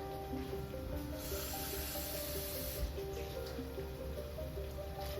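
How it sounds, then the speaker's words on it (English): Water poured into a pot for one-pot egg noodles and beef, a steady rushing, hissing pour that carries on for several seconds and stays loud and close without any talking. "we're gonna put a couple cups of water in there."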